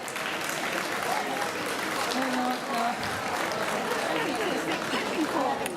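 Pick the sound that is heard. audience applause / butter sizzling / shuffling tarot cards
audience applause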